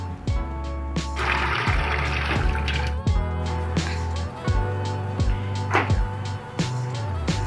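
Water pours and splashes into a pan for salted caramel sauce, a running liquid sound with clinks and knocks of kitchen utensils around it.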